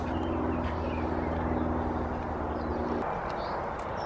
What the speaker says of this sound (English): I'm sorry about the noise from the bypass